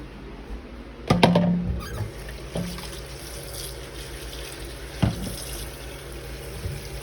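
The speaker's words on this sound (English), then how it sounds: "I'm going to add just a little bit more water." Water poured into a pan of steak-bite gravy trickles and splashes in short bursts, with a few sharper clatters standing out over a low, quiet kitchen background.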